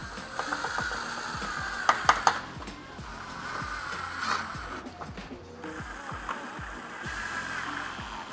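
Hand ratchet clicking in rapid bursts while four 10 mm bolts are tightened into a Seibon carbon front lip on a GR Corolla, a few sharper clicks standing out near the car.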